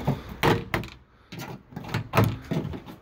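Plastic trim panels on a 2008 Nissan Xterra door pop off under a panel removal tool in a series of loud, close thunks and clacks with short pauses between them.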